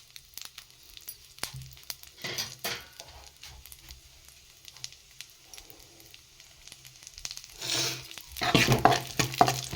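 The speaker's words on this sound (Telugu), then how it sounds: "ఫ్రై చేసుకుంటున్నాను బాగా వీటిని" Dry fruits fry in ghee in a pan, a soft broadband sizzle with intermittent stirring scrapes and a louder burst of crackling near the end, close and with no talk.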